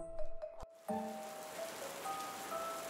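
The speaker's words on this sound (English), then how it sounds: "Number one, it was raining like crazy. It was raining like this." Heavy rain falls steadily in Vienna as a broad, even hiss, faint and distant, following a few brief tonal sounds at the start.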